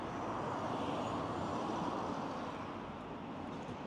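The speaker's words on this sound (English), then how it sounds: "There were two cars driving past it at the same time." Two cars passing a spot at the same moment on a road in Rovaniemi, Finland, a steady broad roadway rush that holds for the whole stretch without speech.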